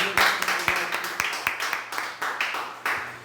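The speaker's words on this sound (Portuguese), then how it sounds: "Uma salva de palmas bem bonita para Jesus" Scattered hand claps ring out in an evangelical church service as worshippers applaud for Jesus, sharp distinct claps at an uneven rhythm, fairly sparse and close, with a faint low hum beneath.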